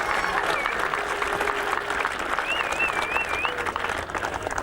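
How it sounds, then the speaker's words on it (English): A crowd applauds a club helper at a Leitrim Senior Championship final gathering, with dense, sustained clapping filling the room while voices and a whistle carry above it. "I'd like to give him a hand of applause"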